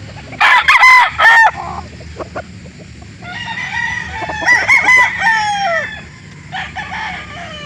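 A Golden Boy cross Boston rooster crows loudly and close, and other chickens cluck and crow around it in bursts that overlap across the scene.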